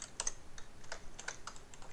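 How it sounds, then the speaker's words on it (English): Quiet, quick keystrokes on a computer keyboard as a short line of script code is typed, with irregular clusters of clicks and no talk. "So we're gonna type print, part color,"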